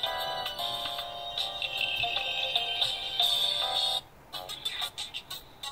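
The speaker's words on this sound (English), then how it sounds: "let's change the ringtone" A pre-installed ringtone plays from a Ticwris Max smartwatch, a bright repeating electronic melody heard alone at close range for several seconds before it cuts off.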